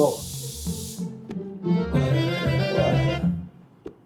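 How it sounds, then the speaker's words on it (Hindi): A spray hisses over a crop field in two bursts, a short one followed by a longer, steadier one, with voices and other sound underneath. "मेरे ऊपर स्प्रे करी जा रही है"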